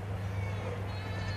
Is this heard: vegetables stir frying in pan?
no